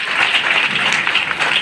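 Audience applause fills a hall, a dense, even burst of many hands clapping together at close, loud range with no talk over it.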